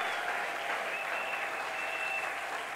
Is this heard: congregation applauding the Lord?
yes